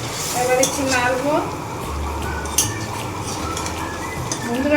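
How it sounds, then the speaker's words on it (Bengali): A spatula clinks and scrapes in a pan as katla fish curry is stirred, with a soft simmering bubble underneath, a few sharp metallic knocks, and someone talking over it. "মাছগুলি দিয়ে দিলাম, এবার একটু নাড়বো।"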